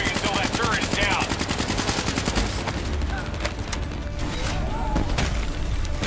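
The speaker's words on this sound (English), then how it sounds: "We're not moving until that turret is down." Rapid machine-gun fire from a turret in Call of Duty Black Ops 3, loud sustained bursts dominating the first half, then thinning into scattered shots and clatter amid battle noise.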